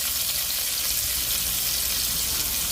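Pork neckbones cook in a pan, giving a steady, even sizzle and simmer hiss with no break, close and moderately loud, with no talking over it.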